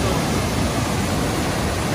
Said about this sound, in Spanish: Esto sí es una belleza de cascada.